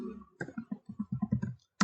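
Someone types an SQL insert query on a computer keyboard, producing a quick, uneven run of close key clicks with brief pauses and a louder burst of keystrokes at the end.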